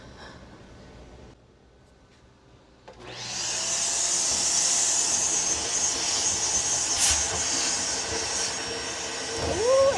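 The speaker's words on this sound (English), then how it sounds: "And then let's turn on the vacuum." A Shark vacuum cleaner switches on after a few seconds of quiet handling noise, then runs with a loud, steady high-pitched whine and airflow rush that shifts slightly near the end.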